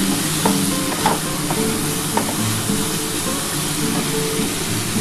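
Parboiled soybean chunks are sautéed in a pan, giving a loud continuous sizzle with irregular clanks and scrapes as they are stirred and tossed close by.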